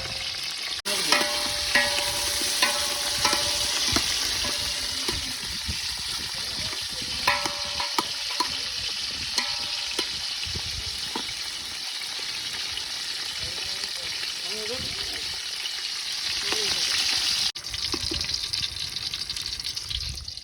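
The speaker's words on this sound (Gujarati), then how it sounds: "તો મરચાં તળાય છે અત્યારે." Chillies frying in hot oil for a spicy eggplant dish, a continuous crackling sizzle with sharp pops and spatters, close and fairly loud, briefly easing midway before intensifying again, with no talk.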